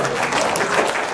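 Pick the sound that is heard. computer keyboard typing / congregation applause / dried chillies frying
congregation applause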